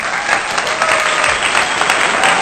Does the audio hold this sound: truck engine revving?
no